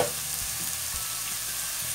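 Carrot, pumpkin and potato pieces sautéing in a pot for vegetable broth, a steady close frying sizzle with faint stirring scrapes, no talking.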